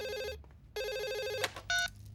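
A telephone rings in a cartoon household, with two bursts of electronic ringing separated by a short pause, followed by a brief higher chirp; clear and close, with no talk over it.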